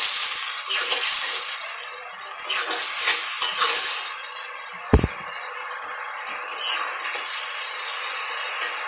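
Ginger and cumin with a splash of water stirred in a pan: scattered utensil scrapes and light clinks, one sharper knock midway, close and fairly quiet with no talking.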